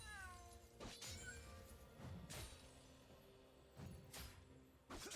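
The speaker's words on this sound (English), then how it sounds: "the noise the cats make when they die is too sad" Cats dying in a League of Legends-style esports match (EVIL vs CC), giving short mournful meow-like cries, several in a row, amid busy game sound effects and crowd ambience.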